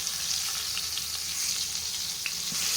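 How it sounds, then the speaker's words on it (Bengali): Eggplant slices fry in hot oil, a dense, steady sizzle with light popping, close and continuous with no voices. "শীতের দিনের এই বেগুন ভাজাটা কিন্তু অনেক মজা খেতে"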